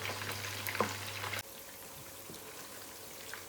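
Tomato paste sauce for Senegalese fish and red rice simmering over low heat, a soft, steady sizzle and bubbling close by, with a single dull knock partway through.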